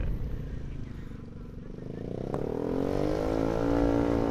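A Honda Beat scooter with a loud aftermarket exhaust idles and then revs up, its deep, throaty exhaust growing louder and rising in pitch.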